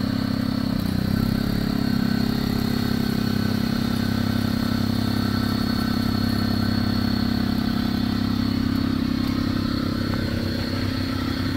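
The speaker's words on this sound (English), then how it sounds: "But we have a generator running, and we are officially grounded." Generator running as a steady, loud engine drone with a low rumble and faint clatter, unchanging throughout with no voices.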